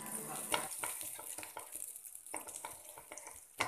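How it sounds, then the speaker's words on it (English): Butter melting and sizzling in a hot pan for a butter chicken dish, with soft crackle, a few sharp clicks of stirring and utensil contact, fairly close and quiet, with no talking. "Kita masuk butter sampai butter tu cair lah."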